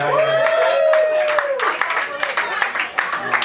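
Comedy show audience in Taiwan claps in response to a question from a stand-up comedian, a short uneven burst of applause mixed with voices and laughter, fairly close.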